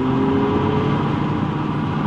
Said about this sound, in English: It's so cool to have that exhaust sound.